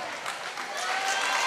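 Crowd applause at a roller derby bout, a steady wash of clapping that swells slightly over a second and a half, heard from within the arena.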